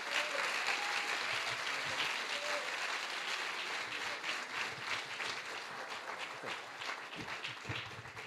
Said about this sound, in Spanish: te recibimos con este aplauso